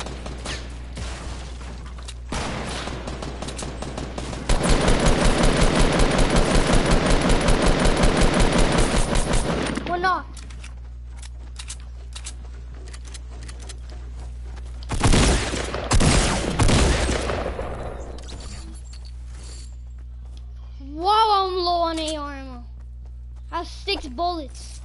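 Rapid automatic gunfire crackles through a Fortnite battle, a dense sustained volley for about five seconds, then a shorter cluster of shots later, with players talking in between.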